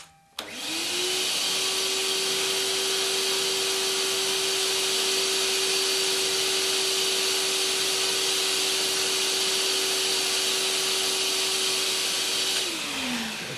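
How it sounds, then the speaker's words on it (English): A shop vacuum sucks metal chips out of a rotary vane air compressor part, running as a loud, steady whine for about twelve seconds with a sharp start and a falling tail at the end. "And we have a lot of chips in there. Maybe vacuum them."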